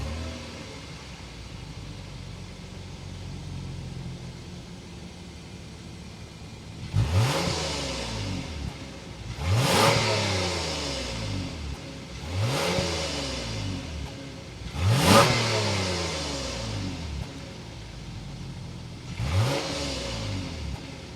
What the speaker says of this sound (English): because we have dual exhaust and this is the V6, we have to hear that exhaust note